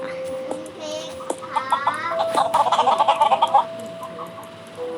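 A chicken in the video game Mini World clucks in a rapid series of short, close clucks over a steady electronic tone and faint background noise.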